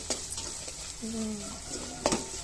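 Ginger and turmeric fry in a pan with a faint steady sizzle, broken by a couple of sharp scrapes of a spoon against the metal, close by.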